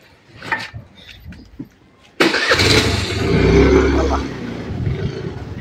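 A car engine cranks and catches with a sudden loud burst, then keeps running in a steady, heavy rumble at close range; people talk quietly just before it starts.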